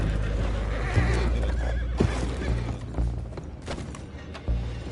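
Horses whinnying and neighing in Red Dead Redemption 2, several loud calls over a busy mix of hoof clops, thuds and rumbling, with a voice talking faintly underneath.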